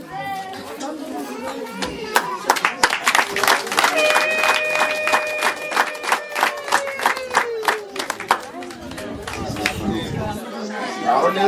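A crowd of adults and children at a family gathering bursts into sustained clapping that swells, holds for several seconds and then fades. Chatter and voices carry on around the clapping.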